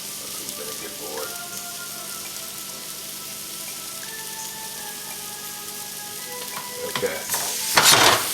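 Grouper pieces for fried ceviche sizzle steadily in a hot pan, a constant frying hiss with a few stirring clinks, and a brief word spoken near the start.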